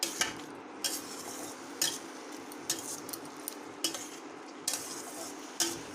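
Carrot halwa cooking in ghee and sugar in a pan, with repeated sharp metal spoon scrapes and clinks against the pan about once a second over a soft sizzle.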